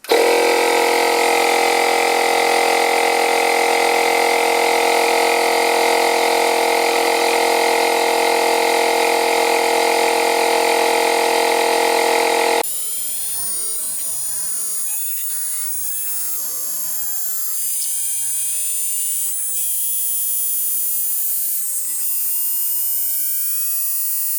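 A Makita cordless tyre inflator pumps up a flat car tyre with a loud, steady mechanical drone. Partway through the tone shifts to a quieter, wavering whine with sweeping pitch changes as the motor keeps running.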